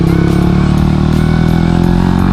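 A Suzuki GSX motorcycle fitted with a lowering kit holds a steady engine drone while leaning through a turn, a loud continuous low rumble with constant exhaust tone and no speech.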